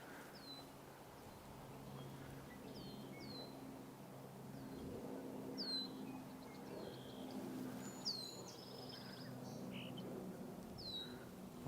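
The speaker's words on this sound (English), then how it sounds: "Lots of red-winged blackbirds." Repeated short whistled calls and chips from several birds sound at a distance, scattered across a quiet outdoor ambience with a low background hum.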